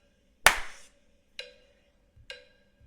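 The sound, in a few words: hand clap for syncing video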